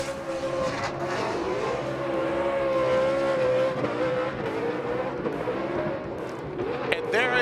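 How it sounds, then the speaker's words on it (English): Formula Drift car, driven by champion James Deane, doing a celebratory tire burnout at Irwindale Speedway, a steady loud roar of engine and squealing tires throughout, with an excited commentator talking over it. "a celebratory burning up tires here at the iconic track, Irwindale Speedway"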